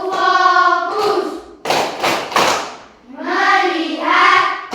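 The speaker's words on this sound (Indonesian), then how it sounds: "Ice breaking kita yaitu tepuk fokus 2 ya." A group plays the clapping game "tepuk fokus" as an ice breaker: chanted voices frame a short burst of several sharp hand claps in the middle, close and fairly loud.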